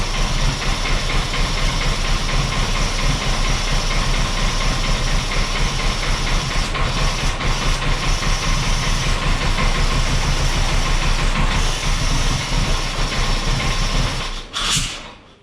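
A Mercruiser 140 boat engine runs steadily, a loud continuous rumbling drone with a mechanical chugging pulse that holds for most of the stretch before cutting off abruptly near the end.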